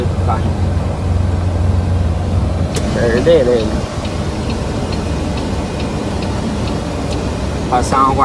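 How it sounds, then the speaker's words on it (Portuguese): An evaporative air cooler runs at full power inside a truck cab, giving a steady, close fan whoosh throughout, with a few faint clicks and brief voices over it. "Tô com o climatizador ligado na toda, porque não arrumei o ar-condicionado ainda."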